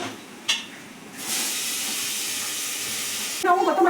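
Tomatoes hit a hot pan of onions and ginger-garlic paste, setting off a loud, sustained sizzle and hiss after a brief clatter, with a fresh burst of crackling and faint talk at the end.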